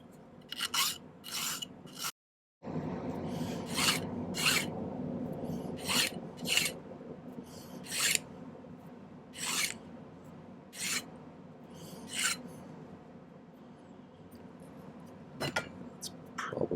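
A file rasps steadily against a silver ring, scraping away excess solder in repeated close strokes with a brief pause early on and no talking.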